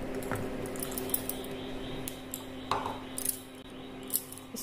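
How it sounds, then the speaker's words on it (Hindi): Sugar being stirred into eggless sponge cake batter in a bowl makes faint, soft scraping and light clinks of a spoon against the bowl, quiet and intermittent. "अब हम चीनी भी मिक्स कर लेंगे"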